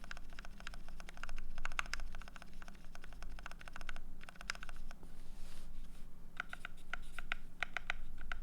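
Fast, steady typing on a Canoe Gen 1 mechanical keyboard fitted with Alpaca V2 switches, a dense run of crisp keystroke clicks with short pauses over a low electrical hum.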